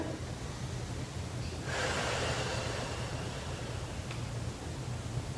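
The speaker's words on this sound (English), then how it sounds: "inhale in, forced exhale" A person exercising their abs gives a forced exhale, one breathy rush of air lasting about two seconds over a low steady hum, followed by a fainter short breath.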